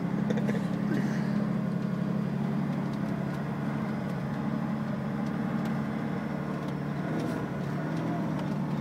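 A DAF XF 480 truck drives along with a steady, low engine drone heard from inside the cab, continuous throughout, with a faint voice partly audible over it.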